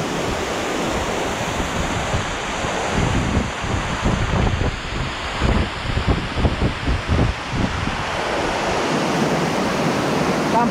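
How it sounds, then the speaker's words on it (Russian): A large waterfall in Bali roars as a steady, dense rush of falling water, loud and constant throughout with no one talking. "Сейчас я полезу сюда, под большой водопад."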